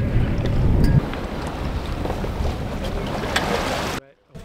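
Steady wind rushes across a sailboat out on the Atlantic Ocean at sunset, a broad continuous roar of air and water lasting several seconds before cutting off abruptly near the end.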